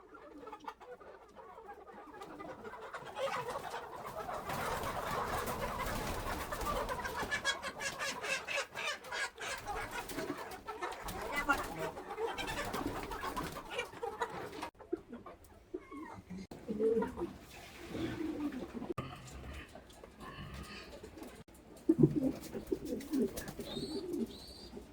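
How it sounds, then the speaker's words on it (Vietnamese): Pigeons cooing at a floating house where chickens are also kept, soft repeated coos and bird calls mixed with faint background voices and rustling, fairly quiet and intermittent. "Ở đây ông nuôi được nhiều chim bồ câu quá."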